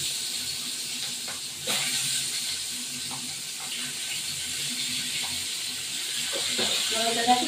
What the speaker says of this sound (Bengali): ইলিশ মাছগুলো নুন হলুদ দিয়ে মাখিয়ে নিয়েছি, এগুলো ভাজা করবো